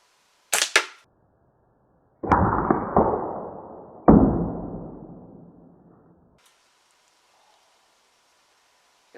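Shots from a Crosman Tryo fired at hard-boiled eggs outdoors give a sharp crack, then two louder impacts that each trail off in a gritty scatter of a few seconds, followed by silence.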